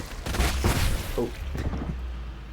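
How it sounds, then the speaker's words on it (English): Several heavy booming video game explosions and thuds hit in quick succession, loud and close, then fade into a low rumble. "Explosions."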